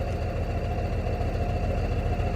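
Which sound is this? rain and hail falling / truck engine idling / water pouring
truck engine idling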